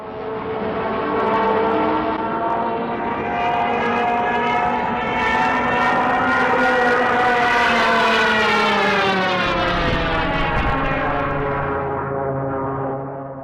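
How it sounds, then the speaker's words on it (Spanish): A loud, sustained wailing siren of a Stuka dive bomber rises and falls in pitch without a break, with a deep rumble underneath toward the end. "temieron al instante el chillido generado por estos aviones"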